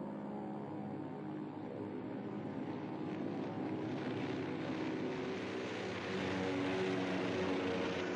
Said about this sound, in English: 150 American planes took to the air.